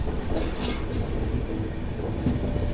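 Nanded–Tirupati special train pulling into Erragonda junction on the Chennai–Mumbai main line, a close continuous rolling rumble of wagons with a faint high wheel squeal now and then.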